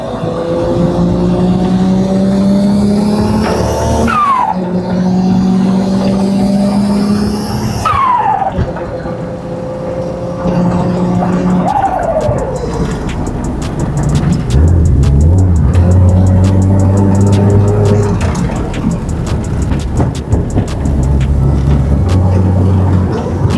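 A car fitted with a Toyota Supra engine and turbo accelerates hard through several gears, rising revs broken by sharp shift drops, then tires squeal and the engine drones on, loud and close throughout with no talk.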